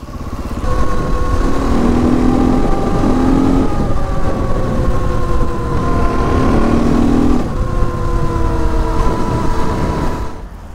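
An enduro motorcycle engine on a grassy field, loud and close, revving steadily with pitch rising and falling in several pulls during first wheelie attempts, with no voices.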